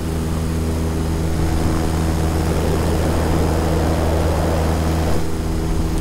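An electric paramotor's motor and propeller drone steadily in flight, a loud, constant whirring tone with wind rush and no talking.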